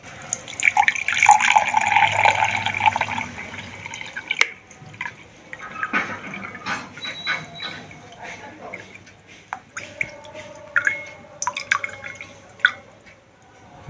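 Water pours and drips into a container until 200 ml is measured, a splashing stream with tap-like running sounds and scattered drips, fairly close, with some clatter and handling noise around it.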